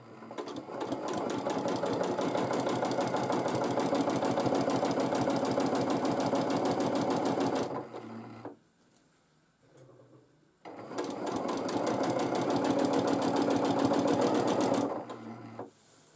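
A domestic sewing machine does free motion quilting through a quilt sandwich in two long bursts of rapid, steady needle stitching, with a short near-silent pause between them for readjusting.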